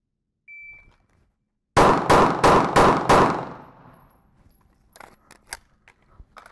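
Pistol shots at a shooting practice range: five sharp, loud cracks in quick, even succession, each ringing out briefly, followed by lighter clicks and handling noises.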